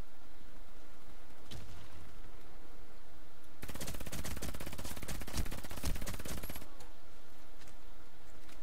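A silenced bullpup gun in Warface fires one muffled shot, then a three-second burst of rapid suppressed gunfire, close and loud, before fading back to quiet game ambience.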